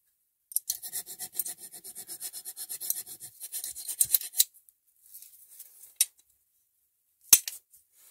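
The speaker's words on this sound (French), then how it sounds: "Allez, une petite lime diamant." A small diamond file scrapes steadily over a copper clutch shoe on a Honda Forza 350 scooter, in a rapid run of even rasping strokes, then a few sparse scrapes and a sharp knock near the end.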